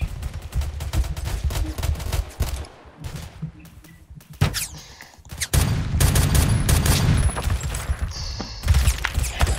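LMG machine gun fire in the Roblox game Phantom Forces, with loud sustained bursts of rapid automatic shots, short pauses between volleys and a longer stretch of continuous firing near the end.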